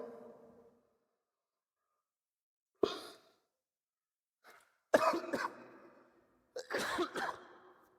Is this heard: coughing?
yes